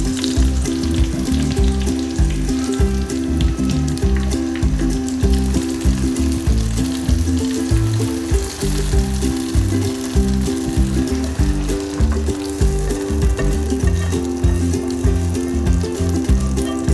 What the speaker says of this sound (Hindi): अब हम इसको दाल को तड़का लगाते हैं।